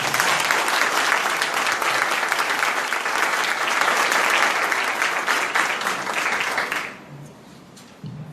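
Loud, sustained applause from an audience honoring newly appointed members of a municipal lawyers' electoral law and anti-corruption commission, dense clapping for about seven seconds before fading to a quieter room.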